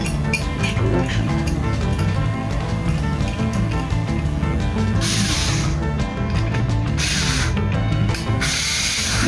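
A ratchet clicks rapidly and continuously while bolts on a K04 turbocharger compressor cover are tightened, close up and loud, with bursts of brighter hiss partway through.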